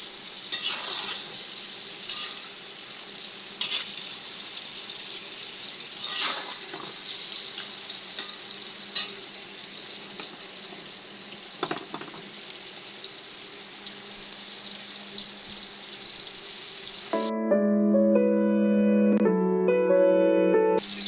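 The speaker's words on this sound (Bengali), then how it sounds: "আম্মু এখন মাছের মাথা ভেজে নিচ্ছে" Fish heads fry in oil in a pan with a continuous soft sizzle and scattered crackles and stirring clicks, then music takes over in the last few seconds; no one speaks.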